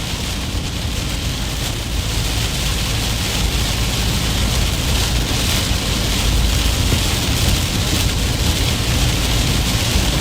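Steady rain pours down during a strong thunderstorm in Missouri, a dense continuous hiss at a constant close level throughout, with no voices.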